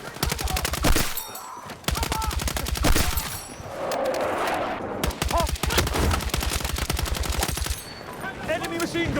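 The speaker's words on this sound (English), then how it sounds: "Enemy machine gun!" Machine gun fire in the video game Battlefield 6 comes as loud, rapid, sustained bursts with brief pauses between them, broken by a whooshing blast in the middle.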